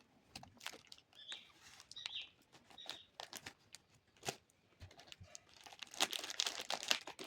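A plastic-wrapped Meesho sweatshirt parcel is unpacked up close, with quiet crinkling, rustling and tearing of the wrapping in irregular bursts, faint and alone without talk.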